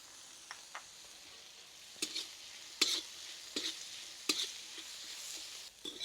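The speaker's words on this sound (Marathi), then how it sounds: "आपल्या भाज्या छानपैकी फ्राय झालेल्या आहेत" Vegetables for crispy corn fry frying in a pan over a wood-fired clay stove, a soft steady sizzle punctuated by several sharp clinks and scrapes of stirring, fairly quiet, with no talk.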